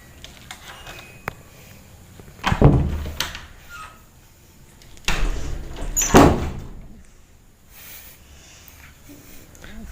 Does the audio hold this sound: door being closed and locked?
yes